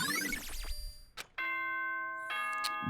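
A bright electronic ding-dong chime plays in the video game Danganronpa: Trigger Happy Havoc: a descending tone sequence, a short gap, then two sustained ringing bell-like notes, clear and alone.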